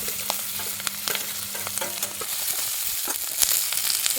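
Cabbage and green chilies frying in oil with asafoetida and turmeric, a steady close sizzle broken by repeated spoon scrapes and clinks as the pan is stirred, with no talk.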